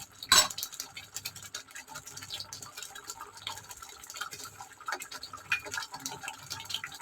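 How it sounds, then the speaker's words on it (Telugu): Paneer butter masala gravy bubbling gently in a pan over slightly lower than medium heat, with soft, irregular pops and a faint close-up simmer throughout. "ఇట్లా ఉడుకుతుందండి."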